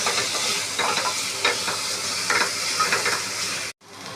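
Onions and tomatoes fry in a pan for green moong dal gravy, a steady close sizzle with repeated scraping stir strokes, cutting off abruptly near the end.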